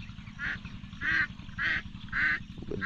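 A flock of ducks being herded outdoors, with four loud, nasal bursts of quacking at steady intervals over a constant low rumble of background noise.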